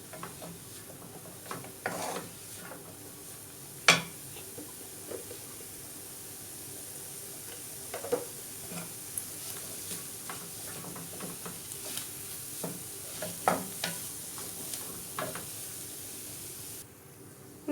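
Clam and coconut stir fry being stirred in coconut oil in a pan, with scattered scraping and clinking strokes of a spoon over a soft, faint sizzle at moderate distance, irregular and unhurried.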